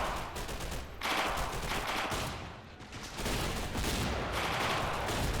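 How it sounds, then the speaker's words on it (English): Dense machine gun and rifle fire rattles through a video game town battle in Finnish winter, with rapid overlapping bursts, loud and continuous and broken by one brief lull. "taking a lot of machine gun and rifle fire from the Soviets"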